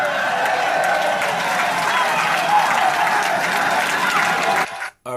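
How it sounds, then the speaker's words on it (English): A political audience applauds loudly and continuously, a dense roar of many hands clapping close by that holds steady for several seconds before cutting off abruptly near the end. "y'all hold all your applause over there"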